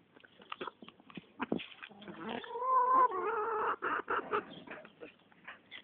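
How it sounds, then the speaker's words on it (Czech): A white pet hen clucks softly in a quiet backyard setting, a run of short, irregular clucks building into a longer, drawn-out cackle in the middle before breaking back into scattered clucks. "To je moje slepička Sněženka."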